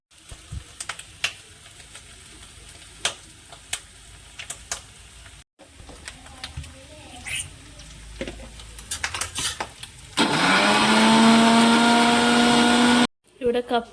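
A mixer grinder runs loud and steady with garlic and water inside for a few seconds, cutting off sharply at the end, after a stretch of clinking utensils, taps and lid handling on a kitchen counter.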